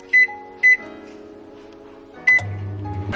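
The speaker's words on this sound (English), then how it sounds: "we're going to put this in the microwave." A microwave oven heating a sweet potato gives a steady low hum, broken by a pair of quick beeps at the start and another beep partway through.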